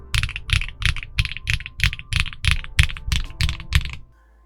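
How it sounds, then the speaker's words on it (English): Mechanical keyboard fitted with Kinetic Labs HMX Butter switches, typed on in a steady run of about a dozen crisp, close keystrokes with deep thocky bottom-out, ending in quiet. "I think they sound quite nice on the keyboard."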